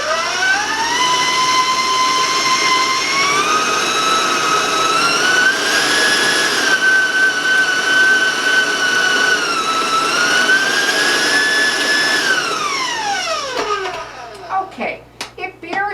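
An electric mixer whirs at high speed through coconut cookie bar batter, a loud, close, steady whine that rises in pitch, holds, then winds down and stops near the end.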